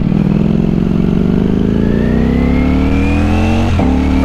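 Ducati Streetfighter V4S motorcycle engine pulling hard in first gear after a downshift, its close, loud note climbing steadily in pitch for about four seconds before a brief dip as the next gear comes in.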